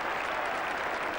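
A cricket crowd at Edgbaston applauds England's Test victory over Australia in the 1981 Ashes, a steady dense wash of clapping and cheering that holds at an even level across the whole moment.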